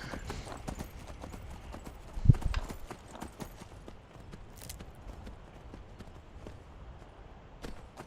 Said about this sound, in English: we will take our horse and we will continue on